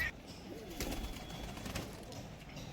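A kalsira pigeon at a pigeon house coos softly and continuously at low pitch, with a faint rustle of wings midway and a quiet background throughout.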